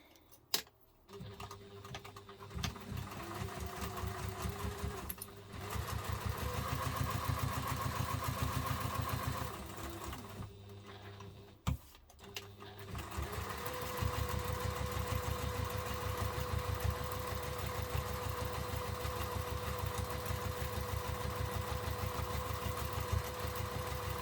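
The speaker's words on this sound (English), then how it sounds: "we're actually going to top stitch all the way around that" A sewing machine top stitches around a messenger bag, running in long steady bursts of rapid needle clatter with a short pause between runs, close and continuous.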